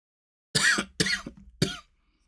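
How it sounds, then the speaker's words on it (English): Three sharp coughs in quick succession, close and fairly loud, with silence before and after. "this cough is still with me"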